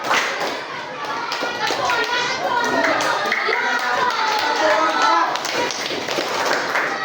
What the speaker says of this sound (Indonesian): Tepuk satu, tepuk dua, tepuk tiga, tepuk empat.